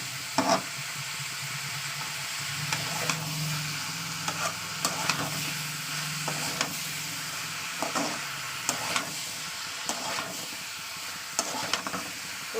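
Bottle gourd and potato sautéed with spices in a pan, a steady close sizzle with repeated scraping stirs of a spatula at irregular intervals, no voices.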